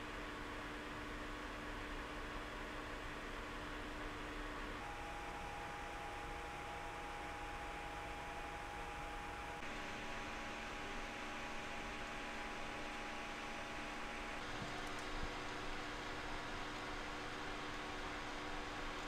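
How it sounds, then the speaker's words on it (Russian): Quiet, steady whirring of a Creality CR-10 Smart 3D printer's small cooling fans with a faint electrical hum, continuous and even, with no talking. "я слышу только вентиляторы"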